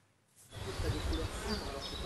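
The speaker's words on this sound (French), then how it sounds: "des milliers d'abeilles qui butinent les fleurs roses et blanches de ces pommiers" Thousands of bees forage among the pink and white blossoms of apple trees in an orchard, a dense, continuous buzzing hum that swells in after a quiet moment and stays fairly close.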